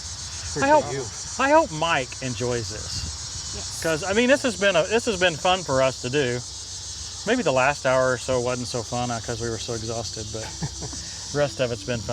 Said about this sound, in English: You can even hear the locusts or cicadas in the background.